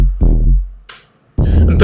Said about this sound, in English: there's this big evil bass sound that sounds like this